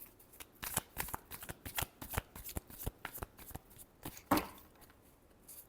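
Tarot cards being shuffled by hand, a quick series of crisp riffling flicks and taps in an uneven rhythm, close and fairly quiet with no talk over it.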